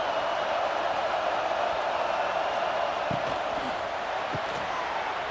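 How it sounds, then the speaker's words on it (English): Steady roar of a large stadium crowd in College Football 26 during Auburn vs Alabama, a constant dense wash of cheering and chatter with no breaks, a few faint thumps underneath. "This crowd bringing the energy and noise early."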